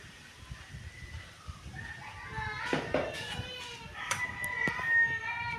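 Chickens cluck and call around a rural yard, faint and somewhat distant, with scattered short bursts against quiet outdoor background noise.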